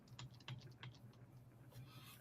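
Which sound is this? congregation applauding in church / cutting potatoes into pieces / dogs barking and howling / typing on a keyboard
typing on a keyboard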